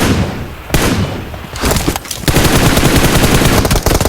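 Automatic gunfire in PUBG Mobile, with loud, dense rapid bursts that start and stop several times, close and sharp, and no talking over them.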